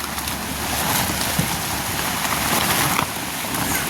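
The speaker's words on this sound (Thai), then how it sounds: "เพราะว่าฝนตกตลอดพี่น้อง" Steady rain falls during a renovation of a bathroom. It makes a continuous broadband hiss with some wind noise and no talk.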